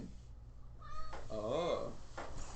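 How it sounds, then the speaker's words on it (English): A house cat meows indoors, one clear drawn-out meow near the middle preceded by softer chirpy mewing, with people talking around it and faint room noises. "Why are you letting the cat in?"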